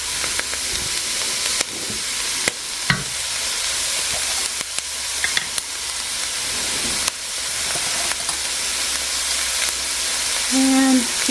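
Vegetables charring over high heat in a pot for white chicken chili chowder, a loud broad hiss and sizzle with scattered clicks and scrapes, steady throughout and close.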